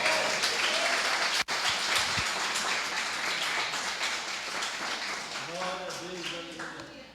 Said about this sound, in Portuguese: um forte aplauso ao Senhor?